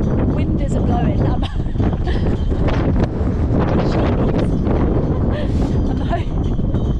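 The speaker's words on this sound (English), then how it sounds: "Wind is blowing." Wind gusting hard across a microphone outdoors among green trees, a loud continuous low rumble and buffeting that stays heavy for the whole stretch with no break.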